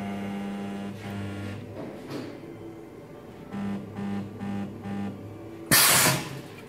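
Resistance butt welding machine running, a low steady electrical hum with rhythmic pulsing tones, ending in a sharp loud crackling burst as the weld fires; no voices.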